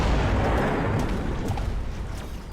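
A tower being destroyed in the strategy video game Mechabellum, a loud sustained rumbling explosion that fills the moment and slowly fades, with no talking over it.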